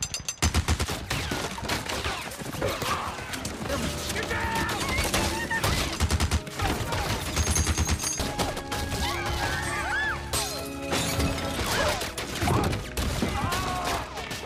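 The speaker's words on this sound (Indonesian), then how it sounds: "berhati-hati kalau Bouk akan menggunakan Gatling gun." Loud, sustained rapid Gatling gun fire in a cowboy film rattles without pause, dense bursts of machine-gun shots mixed with crashes and impacts.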